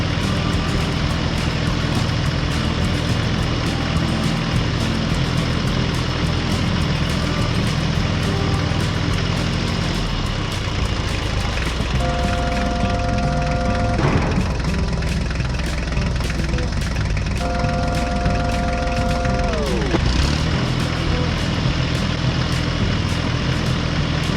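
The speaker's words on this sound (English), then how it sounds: "the tractor slowly drove over the newly paved road" A heavy tractor engine runs steadily up close on a farm, idling and rumbling with a couple of pitch shifts as it revs, loud throughout.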